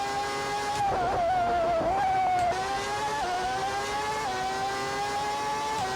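Simulated 1989 McLaren Formula One car engine in GP4 holds a loud, sustained high-pitched whine, dipping briefly at shifts then rising again, steady and close throughout without voices.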